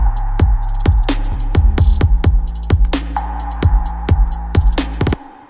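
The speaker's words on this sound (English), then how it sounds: "it's actually a bunch of layers and they're all processed really carefully to make it sound like one snare" Layered trap snare cracking inside a full electronic drum group, with punchy kicks and rapid hi-hats in a busy driving pattern, loud and upfront.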